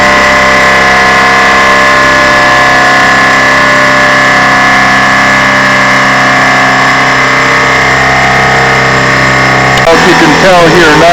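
A CNC machine running a program inside a barn, giving a loud, steady mechanical drone with a constant hum that stays level before a change in sound near the end.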